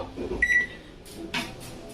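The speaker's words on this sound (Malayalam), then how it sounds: "ഇപ്പം നമ്മുടെ ഓവൻ സ്റ്റാർട്ടായിട്ടുണ്ട്" A microwave oven being tested after a home repair beeps once when started, then its steady hum runs with a couple of faint clicks and soft knocks, with no voices.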